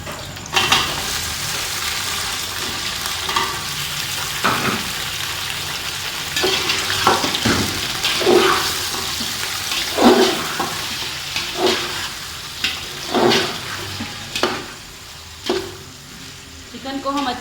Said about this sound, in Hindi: चिकन को हम अच्छे से ब्राउन होने तक भूनेंगे, तकरीबन 5 से 7 मिनट तक जी।